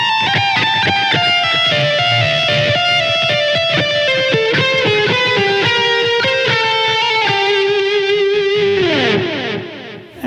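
Distorted electric guitar lead playing a fast modal run in a triplet rhythm from a guitar solo, with dense stepping notes over light backing, ending in a long bent note that fades; no voices.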